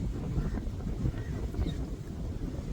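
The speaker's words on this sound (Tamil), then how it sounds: "இது நல்ல கடற்கரை சைடு படிக்கால நல்ல காத்தடிக்குது" Strong seaside wind buffeting outdoors, a continuous low roaring rumble that stays loud and steady throughout with no break.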